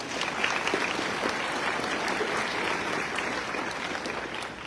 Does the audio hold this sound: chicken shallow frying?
no